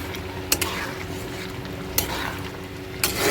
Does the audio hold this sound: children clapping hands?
no